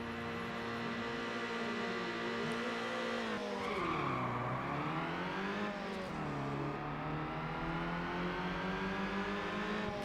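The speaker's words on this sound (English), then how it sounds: "I always like the engine sound of this Golf" A Volkswagen Golf engine in the racing game Need for Speed Underground drones with a smooth, organ-like tone, rising and dipping as revs climb and fall through gear changes, steady and close with no talk.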